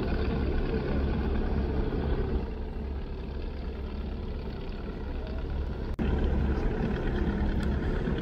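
Passenger launches Kirtonkhola 10 and Surovi 7 race past on a river, a steady loud engine drone and water rush filling the scene, with a brief sharp click near the end.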